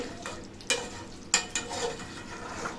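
Beef curry being stirred in a pan as it simmers down on low heat, with two sharp scraping strokes against the pan over a soft steady sizzle.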